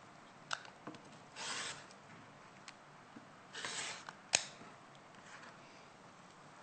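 Scissors or a cutter trimming quilt fabric from an Amy Butler Soulmate collection on a sewing show, heard as a few soft rasping cuts and scattered clicks in a quiet room.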